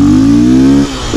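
A Honda XRE motorcycle engine revs hard at close range, holding a loud, buzzing high-rpm tone before the throttle snaps shut and the revs drop away.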